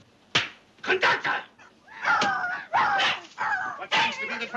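A dog on a train barks and whimpers in a 1939 film scene, giving sharp yips and whining cries in close, irregular bursts mixed with voices.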